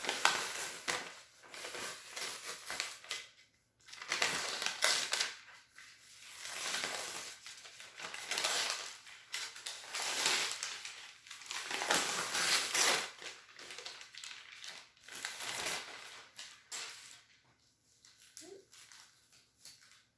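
Leftover bits of a screen print stencil are peeled off a T-shirt in repeated soft ripping and crinkling bursts, close and quiet, with short pauses between pulls.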